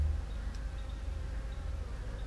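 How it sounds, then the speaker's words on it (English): A steady, close buzz of bees drones on with no pauses, over a low rumbling background. "Good heavens, these bees."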